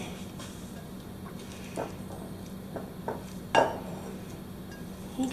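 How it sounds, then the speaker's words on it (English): Stirring yellow colorant into cold process soap, a utensil scraping and clinking against the container in sparse, irregular taps, fairly close and quiet over a low steady background hum. "I'm stirring it up a minute. Try to loosen it up some."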